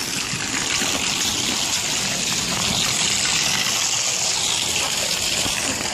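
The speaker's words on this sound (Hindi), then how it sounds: "पानी देखें यहाँ तक आया है" Rainwater flooding a village lane flows steadily as a loud, continuous rushing and trickling wash of water close by, with no talk over it.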